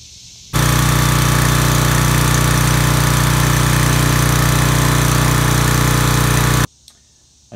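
A pressure washer engine kicks on abruptly and runs loud and steady with a strong droning hum and rattling vibration for about six seconds, then cuts off sharply, leaving faint background noise.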